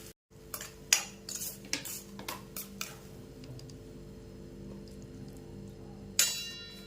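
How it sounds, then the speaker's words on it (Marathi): Cooked hummingbird-flower vegetable (hadga bhaji) scooped from a pan onto a plate, giving a run of light scraping and clinking spoon-on-metal knocks that thin out toward the end, with one sharp clink near the close, close by and alone. "मी गॅस बंद करते आणि एका प्लेटमध्ये ही भाजी काढून घेते"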